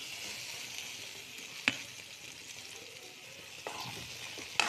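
Chopped okra hits a hot pan and fries with a quiet, even sizzle, broken by a few sharp spoon taps against the pan.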